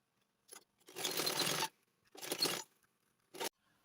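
Thread is drawn through fabric by hand while sewing a Nigerian Zara cap, giving a few close, soft swishing pulls, two of them long, with silence between.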